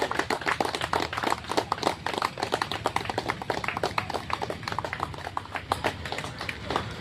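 An audience claps together in sustained applause, a dense stream of close, sharp hand claps with an even rhythm and no voices.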